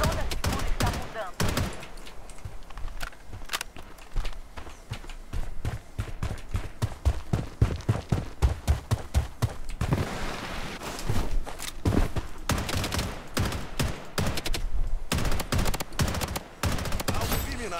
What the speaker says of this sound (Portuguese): Escutei o tiro.